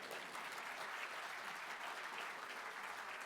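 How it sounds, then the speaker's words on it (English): Audience applause at a memorial gathering, a dense, steady wash of clapping held at a constant level for a few seconds, somewhat distant, with no talk over it. "That deserves an applause."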